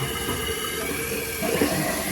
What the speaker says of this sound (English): I'm gonna flush it and see what happens.